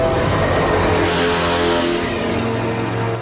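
The Slugterranean Express, a cartoon train, pulls in with a loud, steady rumble and clatter that holds throughout, no voices over it.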